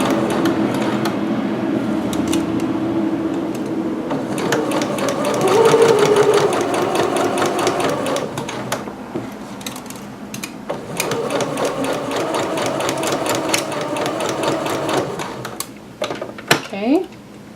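A sewing machine set to a long stitch length bastes a vent in fabric, its needle clattering in fast, steady runs close by with brief pauses, while someone talks over it.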